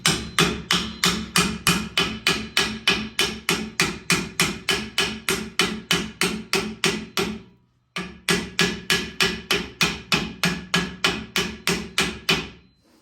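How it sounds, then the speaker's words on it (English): Brass hammer striking a part on a 1999 Chevy S-10 during a rear axle swap: a steady run of about two dozen sharp, loud metallic taps in a quick, even rhythm, a brief pause, then a second burst of evenly spaced blows. "I use my brass hammer to try not to mark this up."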